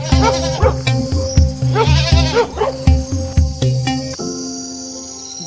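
A goat bleats again and again in short wavering cries, loud and close, as it escapes a dog in a village scene. Music with a steady rhythmic backing plays under the calls, and a cricket-like high chirp carries through.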